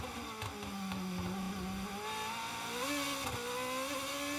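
A GP2 race car engine roars steadily on an onboard lap of the Monaco street circuit in 2013, with loud, continuous high-revving whine and pitch rising through the gears, close and dominant.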